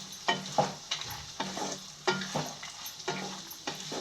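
Paneer cubes and cashews fried lightly in a small pan with a ladle, rhythmic scraping stirs repeating about every half second over a soft sizzle, close up, no voices.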